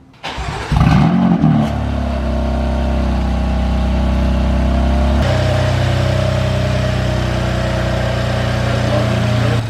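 A BMW F80 M3 with upgraded turbos cranks and fires for the first time, catching with a loud burst and then settling into a steady, close rumbling idle that continues to the end.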